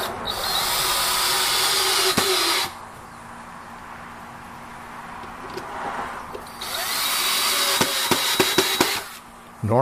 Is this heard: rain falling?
no